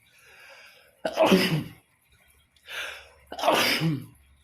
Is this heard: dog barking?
no